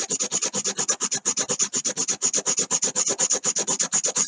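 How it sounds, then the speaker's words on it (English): Hand sanding on the tail of a carved wooden fishing lure: quick, even back-and-forth rasping strokes, close and steady, around eight strokes a second with no pauses and no talk. "I'm going to start sanding on his tail"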